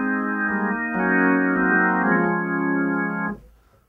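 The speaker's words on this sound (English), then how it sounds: "I'll play a full organ an octave up without these first two keys as my second accompaniment." Hammond B3 organ on full-organ drawbars, played an octave up without the first two drawbars, sustaining a rich, bright chord that shifts once or twice and then cuts off cleanly, with no voices.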